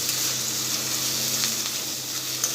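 Capsicum and cabbage stir-frying on a gas stove for veg manchurian, a steady close sizzle with faint scraping of stirring throughout, no voices.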